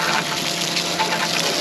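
Boat wash down pump spraying water in a steady, continuous gush that holds at an even level from start to finish, with no voices.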